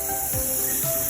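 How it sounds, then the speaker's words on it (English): Garden hose spraying water to clean a wooden back deck, a steady broadband hiss of water with faint sweeping shifts in tone, constant and close throughout. "After that, I sprayed the whole thing clean."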